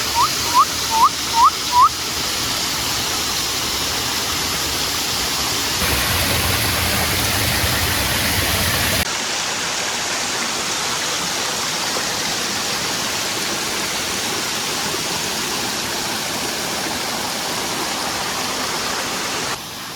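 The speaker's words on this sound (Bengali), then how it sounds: "সাজানো ওয়াটারফল দেখুন পুরো মনে হচ্ছে সাজানো আছে একদম" A jungle waterfall pours down a hillside in a steady hiss of falling water, loud and continuous, with a few short whistle-like chirps early on and a shift to a softer, more distant rush partway through.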